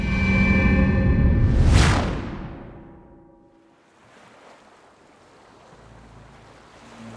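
Sea surge washes in, building to a loud crashing swell near two seconds before receding into a softer, hissing wash of water with wind noise; no voices.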